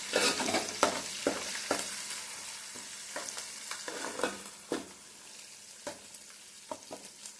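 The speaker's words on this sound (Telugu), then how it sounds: "కొద్దిగా పచ్చిమిరకాయలు కొద్దిగా వేగితే మంచి టేస్ట్ వస్తాయి" Green chilies frying in a pan for a fish fry, with a continuous low sizzle and a string of crisp spatula scrapes and taps at uneven intervals, close and moderately loud, with no talking.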